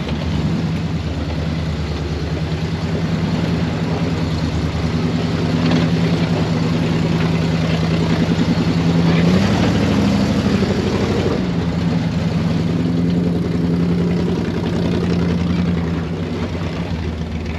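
The engine of Old Blue, an old truck, runs steadily while driving, a loud continuous low rumble that swells briefly near the middle before settling back to an even drone.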